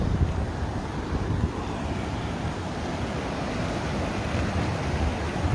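Rushing whitewater churns steadily through a hole at the Montgomery Whitewater Center, a dense, continuous roar that stays loud and unbroken with no voices over it.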